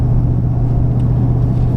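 A Ford 6.7 Powerstroke diesel truck cruises steadily while towing something like a big boat or camper, its cabin filled with a loud, constant low engine and road rumble and no voices.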